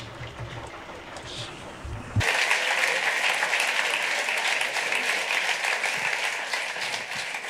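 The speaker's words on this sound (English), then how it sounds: "So a big round of applause for them." After a moment of quieter room sound, an audience at a robotics competition winners' ceremony breaks into loud, sustained applause that continues steadily to the end.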